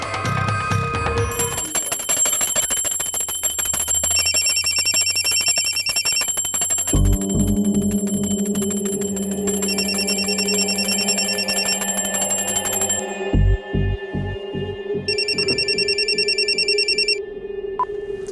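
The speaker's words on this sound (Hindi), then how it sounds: "अभी फोन की घंटी बजाने की क्या जरूरत थी?" An old-style telephone bell rings in repeated bursts, loud and close, over a steady low musical background in a Crime Patrol crime drama scene, with no one talking during the rings.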